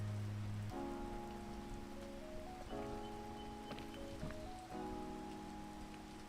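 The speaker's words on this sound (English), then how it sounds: "Damn this rain." Rain patters steadily in a game scene, a continuous hiss behind sustained tonal music notes that shift a few times.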